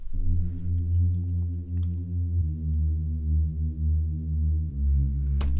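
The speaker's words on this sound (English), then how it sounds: "That bass line soloed out sounds like this." A soloed synthesized EDM bass line plays alone, a steady sustained low tone with rich harmonics that shifts pitch twice over a few seconds, ending with a brief bright click.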